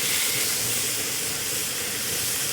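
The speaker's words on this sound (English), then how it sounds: "Listen to that sizzle, sizzle, sizzle." Half a dozen pieces of skirt steak sizzling in a cowboy wok discada: loud, dense, continuous crackling hiss heard up close and steady throughout, with no talking.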